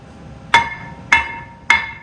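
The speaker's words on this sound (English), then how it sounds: "Now drop the hammer and pull it off." A hammer strikes a brake rotor on a Nissan 350Z to knock it loose, three sharp metallic clangs with ringing tails spaced about half a second apart, close and loud.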